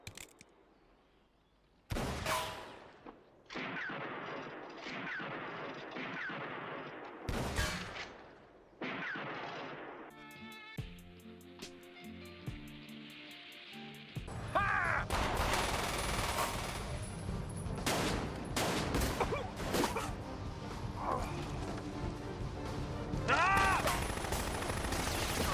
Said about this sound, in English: We even get a scene where the bad guy is practicing shooting at a suit of armor.